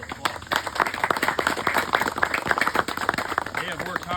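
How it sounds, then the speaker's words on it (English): Guests at a celebration of life clap together in a room, a close, fairly loud burst of applause with distinct individual hand claps and voices murmuring underneath. "I think they need a round of applause."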